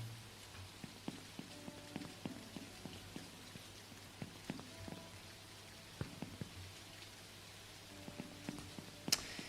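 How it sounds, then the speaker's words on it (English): Steady rain falls on a surface with scattered sharp drips and taps over a constant low hiss, fairly quiet and with no talking, the patter continuing evenly throughout. "Yeah, it is raining."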